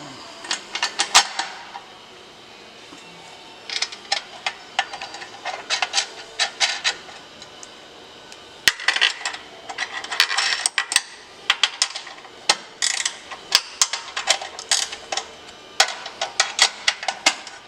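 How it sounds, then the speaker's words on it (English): Small metal parts of a winch disc brake clink and scrape as the brake is flipped over and its cap is reinstalled, giving close, intermittent rubbing and tapping sounds with short pauses between. "take this disc brake and flip it over so it does not engage anymore, and reinstall the cap"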